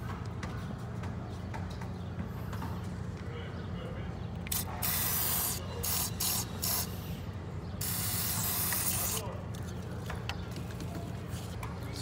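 Aerosol belt dressing from AutoZone sprayed onto a squealing engine belt: loud hissing bursts over a steady engine drone, one long spray then a few short ones and another long blast.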